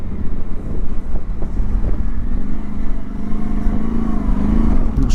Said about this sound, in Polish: Wiatr szaleje.